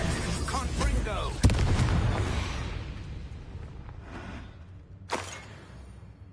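Confringo spell in the game Hogwarts Legacy bursting into a booming explosion with a sharp crack, followed by a rumbling decay and a second smaller blast later, loud and close amid game sound.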